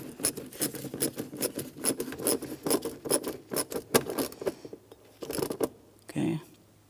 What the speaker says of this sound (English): Tighten up that 8mm headed clamp as well